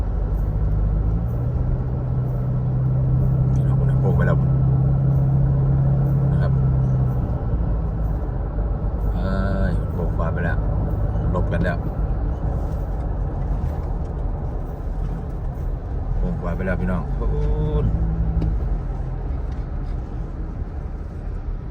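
Dense traffic on a Thai bypass expressway heading into Bangkok, a steady loud rumble of many vehicles passing with a heavy engine drone early on and brief brake hisses, no clear gaps.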